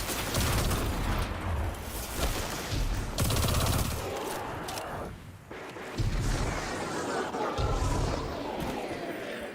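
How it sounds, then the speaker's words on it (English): Rapid automatic gunfire from a weapon in Destiny rattles loudly in sustained bursts with short pauses, dense and close over game ambience. "I didn't realize how weird this gun sounded."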